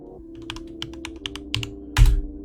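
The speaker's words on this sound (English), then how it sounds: "Make me type a password." Keys clicking on a computer keyboard as a password is entered, about a dozen crisp close taps at an uneven pace, ending in a heavier final press over a faint hum.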